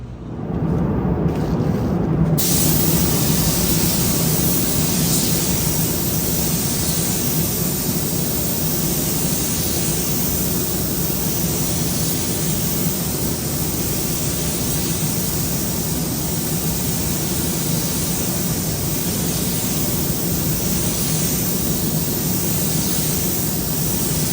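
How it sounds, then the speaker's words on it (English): Paint spray gun laying down metallic silver paint on a car panel in a body shop, a steady loud hiss that runs unbroken throughout, with no talking. "put this in a gun and spray it on the car"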